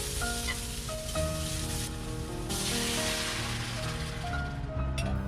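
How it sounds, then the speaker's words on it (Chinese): Sauce sizzling and bubbling in a wok with rapeseed oil, scallion, ginger, garlic and chili, a steady close crackle with occasional clinks of a utensil stirring. "在锅里加少许菜籽油，加进刚才准备好的煲锅用的葱姜蒜和辣椒，爆香之后加入刚才准备好的料汁儿"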